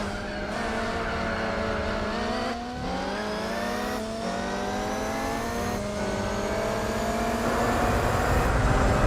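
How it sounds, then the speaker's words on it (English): A race car in Gran Turismo 4 runs flat out at the rev limiter, a steady loud whine with stuttering gear-change dips and climbing pitch repeating every couple of seconds, with no talk over it. "Under a slipstream, I hit the rev limiter then."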